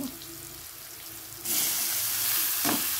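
Vegetables and chow mein fry in a pan, starting as a softer hiss before a sudden, much louder sizzle swells up as more food goes in, with a brief clatter near the end and no voices.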